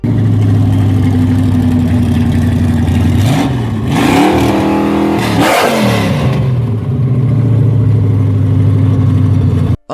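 A Dodge muscle car's 440 cubic inch Magnum V8 rumbles at a loud, steady idle, then blips through two sharp revs in the middle before settling back to its deep, lumpy idle, with no voices.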